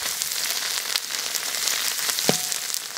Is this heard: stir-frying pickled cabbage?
yes